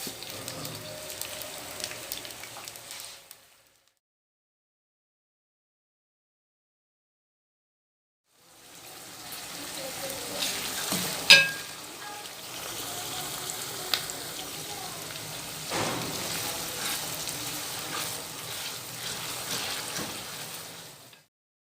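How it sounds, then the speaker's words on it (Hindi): Chopped onions browning in about one and a half cups of hot oil for Sindhi biryani, a steady close sizzle and crackle that starts, drops to silence for several seconds, then resumes and carries on evenly. "इसमें डालेंगे हम प्याज। इसको हम ब्राउन कर लेते हैं।"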